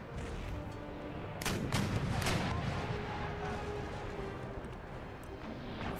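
Naval cannon broadsides from the video game Empire Total War, with muffled booms and crashing blasts rolling over a steady battle hum at moderate distance.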